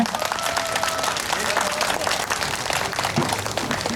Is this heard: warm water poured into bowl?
no